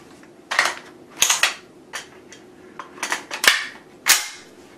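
Light gun from the Alien 3: The Gun arcade game firing, a string of sharp synthetic shots in uneven bursts of one to three, close and loud, with no speech.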